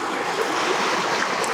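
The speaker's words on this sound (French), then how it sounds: "Face à la rivière qui passe." A passing river gives a continuous broad rushing wash, steady and fairly loud and close, heard alone without any voices.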